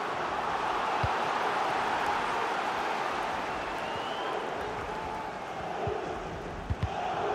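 A football stadium crowd at a Champions League match roars in a steady, broad wash of noise, with a few sharp thumps near the end and no distinct voices standing out.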